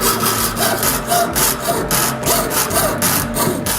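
Hand sawing through a titanium watch dial blank, a steady rhythmic back-and-forth rasp with regular strokes, close and continuous with no talking.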